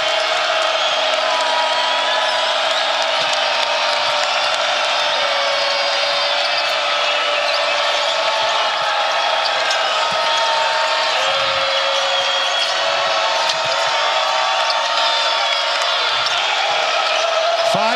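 Loud, steady roar of an arena crowd cheering and whooping throughout a college basketball game between Cincinnati and West Virginia, with the energy never dropping and faint court noise mixed underneath.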